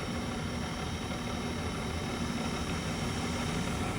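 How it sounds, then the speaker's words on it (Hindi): A Mexim GR-412 radial drilling machine spindle runs at its top speed of 1800 RPM, giving a steady, faint mechanical hum with a broad hiss and no change in pitch throughout. "And we will be now showing the maximum spindle speed of 1800 RPM."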